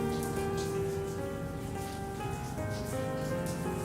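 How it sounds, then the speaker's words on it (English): Rain falls steadily in the video game Genshin Impact, a constant soft patter on surfaces heard under sustained background music tones, with no talking. "Oh boy, it's about to rain."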